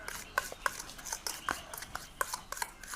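A spoon stirs Colgate toothpaste with a pinch of baking soda and a pinch of salt, giving close, irregular clicks and soft scrapes against the dish, without talk.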